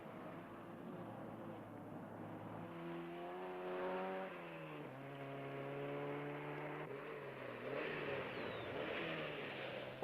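Rally cars race at high speed on rough roads in the East African Safari rally, engines revving and rising in pitch as they pass, heard at moderate distance through an old, hissy recording.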